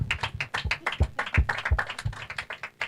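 Audience clapping in a room, a run of sharp, irregular hand claps from a small group, fairly close and with no talk over it.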